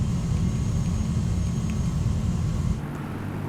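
The DA-60 light aircraft's engine drones in a flight simulator game, a loud steady low rumble heard from the cockpit that drops slightly in level near the end, with no voices.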